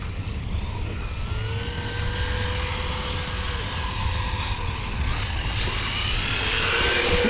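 An RC hot rod runs at full throttle with a loud, steady high-pitched motor whine that rises slightly in pitch, close by and alone.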